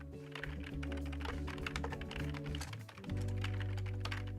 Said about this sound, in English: I'm literally just typing that in.